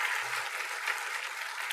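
A crowd at a city State of the City event claps steadily in dense, sustained applause, with no speech over it.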